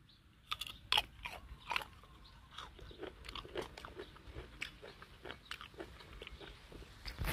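Crisp crunches of someone biting into and chewing a fresh jujube fruit, close and quiet, repeated bites and chews in an irregular rhythm with no talking.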